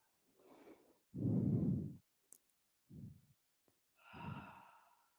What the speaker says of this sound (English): Keep moving your Ujjayi breath.